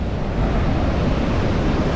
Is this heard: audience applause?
no